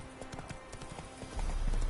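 The horse Roach's hooves clip-clop steadily in the video game The Witcher 3, a quick repeating trot under a low rumble that swells near the end.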